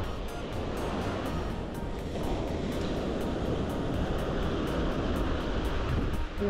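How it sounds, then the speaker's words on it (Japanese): Strong wind buffeting the microphone on a rainy fishing outing by the water, a continuous loud rushing roar with surf-like surges throughout, no talking. "横じゃないと無理だな。 風が強くて。"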